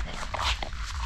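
A dog gives a short, soft whimper at a riverside camp with a tent and campfire, brief and nearby, with faint background murmur and no clear talk.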